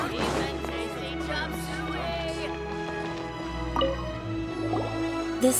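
Water being fetched and poured in Genshin Impact, a close dripping, gurgling liquid sound over a sustained game music bed, with no talk.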